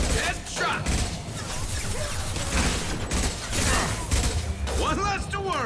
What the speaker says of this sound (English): Concussion shot! Headshot!